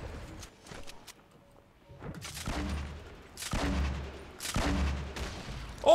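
Shotgun blasts from Fortnite gameplay, three heavy booming shots spaced about a second apart, each a sharp loud burst with a low thump, over quieter game ambience and a few softer distant pops.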